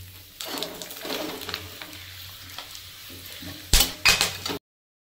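Whole spices dropped into hot oil on a low gas flame for Hyderabadi green chicken, giving a steady close sizzle and crackle with light stirring and a few sharper pan clatters near the end, no talking.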